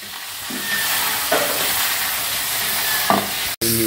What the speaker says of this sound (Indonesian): Ini dia namanya gorengan penyon.